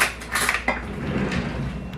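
A dry fork stirs garlic salt and lemon-pepper seasonings in a bowl for chicken wings, giving a few light clinks and scrapes against the dish near the start, then softer rubbing as the mixing continues.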